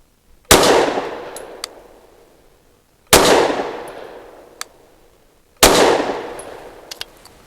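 Three loud, evenly spaced gunshots from a Canik METE MC9 Prime pistol firing SIG 365 V Crown 115 grain nickel-plated ammunition, each a sharp crack followed by a long echoing decay, with faint small clinks between shots.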